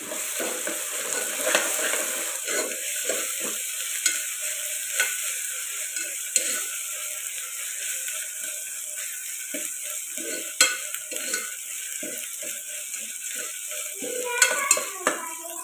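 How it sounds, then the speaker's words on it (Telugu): Ginger garlic paste fries with onions in a pan for a country chicken curry, a steady close sizzle with frequent scraping and clinking of a spoon against the metal pan as it is stirred. "ఇప్పుడు ఇందులోకి పెద్ద స్పూన్ అల్లం వెల్లుల్లి పేస్ట్ వేసుకుందాం ఇది కూడా పచ్చివాసన పోయేదాకా ఫ్రై చేసుకుందాం"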